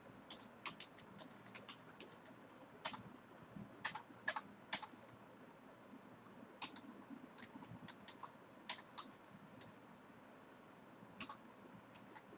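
Typing on a computer keyboard while entering data into retail billing software, with quiet irregular keystroke clicks in short flurries and pauses and no talking.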